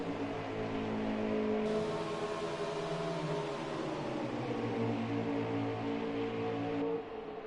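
Race car engines drone steadily in the NASCAR Heat 4 video game, a continuous loud roar with slight pitch shifts as RPMs build, no talk over it.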